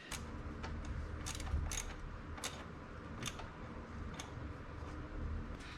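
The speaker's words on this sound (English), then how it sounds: "I'm just gotta line up the bolts and bolt it in" Bolts being fitted to secure a new timing chain tensioner on a Mercedes-Benz engine, with irregular light metallic ticks and clicks over a steady background.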